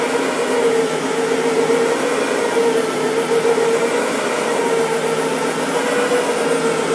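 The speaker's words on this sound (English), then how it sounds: "You can use our Brush Pro for dry soil removal. It's got two counter-rotating brushes" A Brush Pro carpet cleaning machine with two counter-rotating brushes, used for dry soil removal on rugs, runs with a loud, steady whirring drone throughout.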